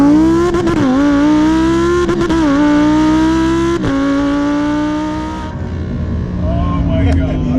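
Lamborghini Huracán cornering, its engine note holding a loud, steady pitch with slight rises and dips before fading toward the end, while people talk excitedly over it.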